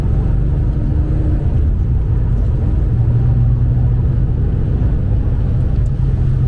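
Porsche 964 911 driving along with a steady, loud low engine and road rumble in the cabin, the engine note shifting slightly as gears change.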